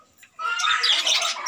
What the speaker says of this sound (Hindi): मैं पूरे 8-10 तोते हैं इसके अंदर, छोटे छोटे मजे से मजे खेल रहे हैं।